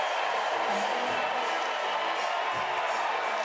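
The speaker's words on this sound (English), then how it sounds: "Rapturous applause here as Donald Trump makes an appearance" Rapturous applause and cheering from a crowd of convention delegates on their feet at the 2024 Republican National Convention, a dense, steady roar of clapping filling the hall.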